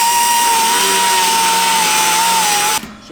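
A power drill with a carbide bit bores bolt holes for the rear subframe of a rear-wheel-drive Honda Civic, a loud steady whine holding one pitch for nearly three seconds before cutting off abruptly.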